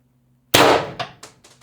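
A Pistelle X-68 airsoft pistol fires a 10 g AR Tactical Joules shot on CO2: silence, then one loud, sharp, close crack with a ringing tail, followed by a few fainter metallic clicks.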